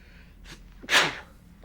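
A single sharp sneeze in Mass Effect 3, preceded by a quick inhale, loud and close in an otherwise quiet moment.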